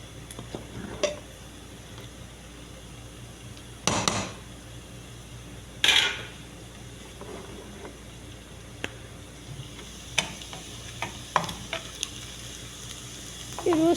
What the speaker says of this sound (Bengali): এখান দিয়ে আবার একটু খিচুড়িটা লাইড়া দিই, কারণ নিচে লেগে যেতে আসতে গা